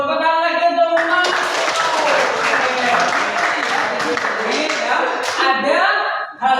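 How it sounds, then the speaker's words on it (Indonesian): A class of students in an Indonesian civics lesson claps for a classmate, a burst of clapping starting after a moment with voices talking over it, then trailing off. "Tepuk lagi untuk Mas"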